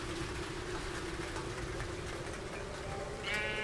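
Rain from a video game mod falls on copper, a steady bright patter and hiss that runs throughout, joined near the end by a sheep's bleat.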